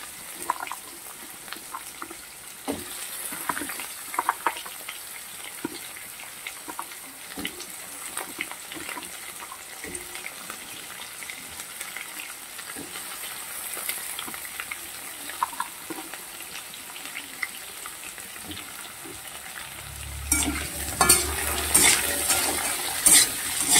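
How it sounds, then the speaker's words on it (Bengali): Potatoes fry in a pan with faint crackling and occasional utensil clinks for a long stretch, then near the end the sizzle swells to a louder, fuller hiss. "আলুটাকে ভালো করে ভাজবো"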